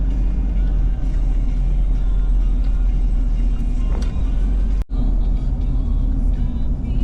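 Road traffic on Imus Boulevard, a close, constant low rumble of cars and motor vehicles that stays loud and steady, broken by one brief dip.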